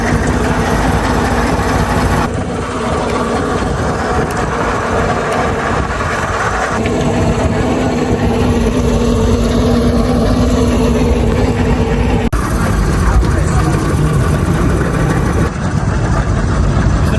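A boat engine runs on a river on the trip home from Dhaka. It gives a loud, steady, close drone that fills the whole stretch with a constant low rumble and barely changes.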